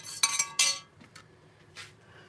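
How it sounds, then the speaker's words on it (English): Candle wax melting in a pot being stirred, a few bright metallic clinks and scrapes of a utensil against the pot, close and fairly quiet, with short pauses between strokes. "Give it a stir"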